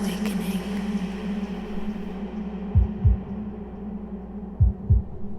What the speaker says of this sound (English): he really thought it'd be cool to put a heartbeat before the drop as well